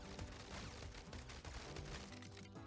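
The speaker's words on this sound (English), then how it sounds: "we are shooting fucking lunar blasts" A lunar blast weapon in the Rocket Rats video game fires rapidly, a dense, continuous stream of quick blasts over a low electronic background.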